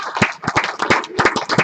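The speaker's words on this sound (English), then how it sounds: "So big round of applause for yourselves," Brief audience applause at the SOTACON Austin 2018 conference opening ceremony: a burst of close, uneven hand claps from a small crowd, with no talking.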